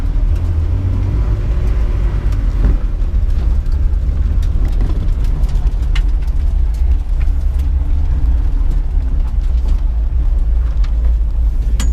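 A BMW E36 M3 lightweight track car on coilovers drives along a bumpy lane, its engine giving a steady, loud low-frequency drone with continuous road rumble and no talking.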